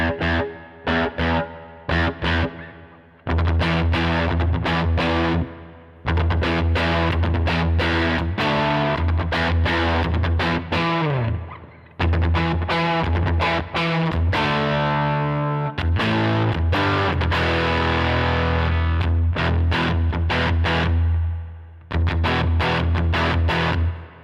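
Heavily distorted electric guitar through a Line 6 HX Stomp amp modeler at high gain plays chugging palm-muted riffs and sustained chords, loud and saturated, broken by short pauses between phrases.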